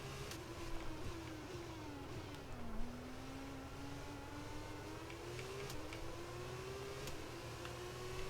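A Formula 1 car engine in the game F1 22 drones steadily at high revs, its pitch dipping and climbing through gear changes, moderately loud with no talk.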